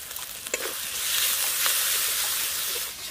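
Salt and turmeric powder hit a pan of frying spices with a steady, bright sizzle that rises after a couple of soft knocks and holds close and even, no talking.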